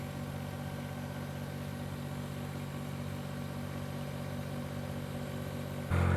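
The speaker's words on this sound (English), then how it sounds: "the biggest compromise we have with a little tractor backhoe like this is actually not digging power" A subcompact tractor backhoe engine idles steadily at low volume, a continuous rumbling drone that swells louder in the final moment.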